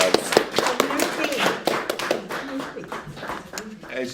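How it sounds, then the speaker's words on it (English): Audience clapping at the Poetry Street poetry reading, a brisk patter of hands from a small crowd, heard under people talking. "Give some applause."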